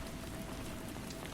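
Steady rain falls continuously and evenly, a dense close hiss with no voices over it.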